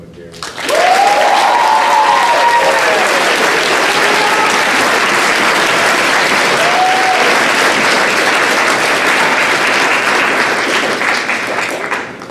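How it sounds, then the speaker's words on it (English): A big round of applause at a high school band senior awards night, loud continuous clapping from the crowd that starts after a second and carries on to the end, with a brief voice heard near the start. "So a big round of applause, though she is not here, to Malia McGarry."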